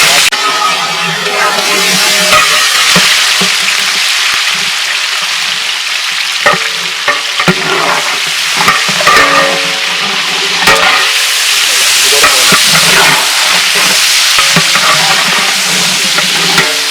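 Green chillies and onions sizzle in hot oil while being stirred and fried for a quail biryani, a steady close crackle broken by frequent scraping strokes of the spoon.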